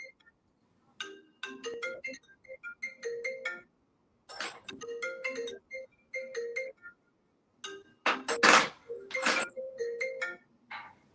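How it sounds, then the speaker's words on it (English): A phone rings with a melodic electronic ringtone, repeating tonal phrases separated by pauses over roughly eleven seconds, clear and fairly loud with a few brief louder noises mixed in. "I hear the phone ringing."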